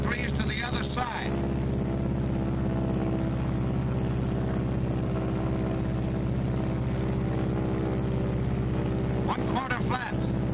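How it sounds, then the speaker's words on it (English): Droning piston engine of a WWII-era B-26 bomber throttled nearly to idle during a single-engine glide, a steady loud rumble filling the whole stretch, with someone talking over it. "The next step is to decrease the power on my operating engine until it's virtually shut off."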